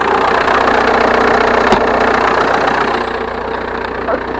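A car engine idles steadily while warming up, a dense continuous rumble that holds close and loud before easing slightly toward the end.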